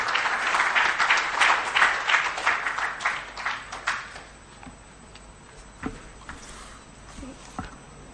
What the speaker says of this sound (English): with a hand of applause, let's welcome to the podium Honorable Isaac Adongo